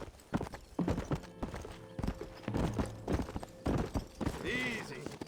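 Quarter horse hooves clip-clopping at a walk in the video game Red Dead Redemption, steady and close, with game audio and a person speaking over them.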